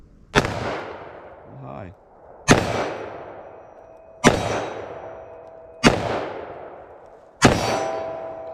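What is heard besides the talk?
gunshots from a short-barrel .357 Magnum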